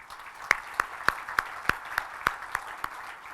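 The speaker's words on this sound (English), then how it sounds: "Give yourselves a round of applause." Audience applause at a community unity banquet in Michigan, heard as a series of sharp, evenly spaced claps roughly every third of a second, fairly faint and distant over a quiet room.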